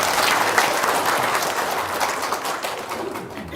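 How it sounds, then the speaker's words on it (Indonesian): An audience claps together at an indoor gathering, a dense burst of applause that holds steady and then slowly thins and fades toward the end. "Tepuk tangan dong."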